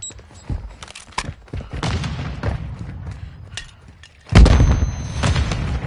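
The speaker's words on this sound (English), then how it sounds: "Grenade." Rapid gunfire crackles in bursts during a Call of Duty match, then a grenade detonates with a sudden heavy boom, followed by more loud shooting and rumbling.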